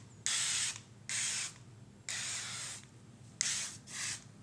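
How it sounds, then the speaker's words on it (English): Avocado oil cooking spray hisses from a can in four short bursts, then a fifth quick double burst, each a bright close spray with brief pauses between, in a quiet kitchen while brownie mix is being prepared. "So I have some avocado spray that I'm going to put on there."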